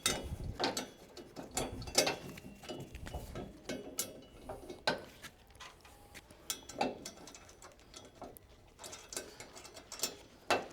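A ratchet wrench snugs up carriage bolts on an Aluma 82 Series side spare tire mount clamped to a trailer frame, giving repeated bursts of sharp clicking with short pauses, close and fairly loud, no talking.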